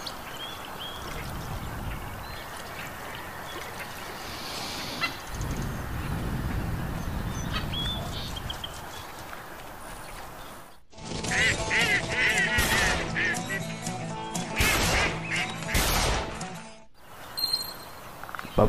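Duck calls and quacking in the Duck Dynasty hunting video game on PS4, starting as a steady low murmur and then bursting into loud, dense, busy calling in the second half, with brief pauses.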